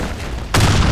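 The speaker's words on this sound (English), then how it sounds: "Careful, bomb. Bomb fly." A bomb goes off in the online shooter BlackShot: after a short stretch of lower background noise, a loud, abrupt boom lands near the middle and rumbles on to the end.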